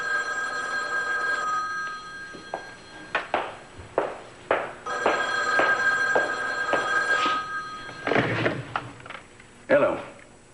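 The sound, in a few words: telephone ringing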